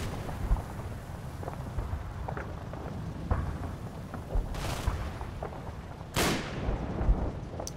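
Distant bursts of gunfire and heavy booming explosions in the World War II video game Combat Mission: Battle for Normandy, scattered irregular cracks over a rumbling battlefield background, with two louder rushing blasts near the end.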